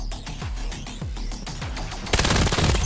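Rapid automatic gunfire in the VR shooter game Vail VR, sharp repeated bursts of shots with echoing tails, intensifying into a dense loud volley at the end.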